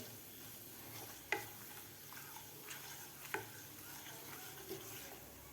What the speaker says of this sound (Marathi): आता आपल्याला एक मिनिटभर हे सुके मसाले तेलामध्ये परतून घ्यायचे आहेत